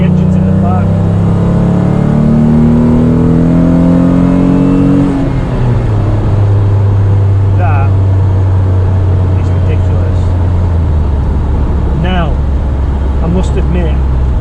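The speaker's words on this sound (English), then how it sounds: "the engine noise is spectacular" A Renault Clio engine revs loud and close, its pitch climbing then dropping into a deep rumbling drone that fills the whole stretch.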